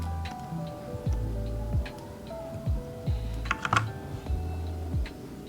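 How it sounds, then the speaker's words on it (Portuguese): Keyboard keys tapped while working in Adobe Illustrator, a series of separate clicks at a steady, unhurried pace, close and clear with no voice. "Aperto a tecla O, Enter, 2 vezes."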